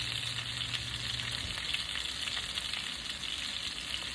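Pork chops fry in a pan over medium heat, a continuous bright sizzle and crackle holding steady from start to finish, close and alone, with a low hum fading out early.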